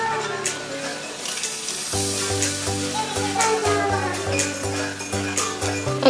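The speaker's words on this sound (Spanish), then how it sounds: "Crema de leche y estamos haciéndolo hervir." Heavy cream boils in a pot with a steady, bubbling sizzle that carries through the whole stretch, partly masked by background music that enters about a third of the way in.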